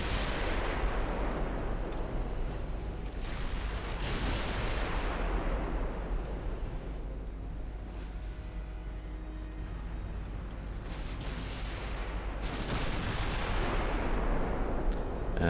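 Battleships return fire in the naval game Ultimate Admiral Dreadnoughts, and two heavy booming gun salvos roll out loud, one at the start and another near the end, each fading into a long rumbling decay with a low steady drone underneath.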